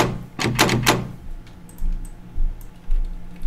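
A locked door in a horror video game rattles and thunks as someone tries to force it, several quick knocking bursts followed by softer, spaced thuds and faint ticks.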